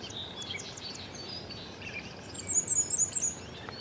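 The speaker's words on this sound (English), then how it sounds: "Their typical song is 4 or more high notes that do not change pitch" A small bird sings a short run of high, thin, evenly pitched seet notes, about four or five in quick succession near the end, faint against a soft outdoor background with scattered higher chirps earlier.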